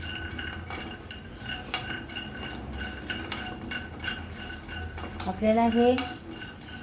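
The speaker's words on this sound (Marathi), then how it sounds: "तर अशा प्रकारे मी रोस्ट करत आहे" Ingredients for dink (edible gum) ladoo being dry roasted in a pan without oil, with a spatula repeatedly clinking and scraping against the metal in an irregular rhythm, close by, and a brief voice speaking partway through.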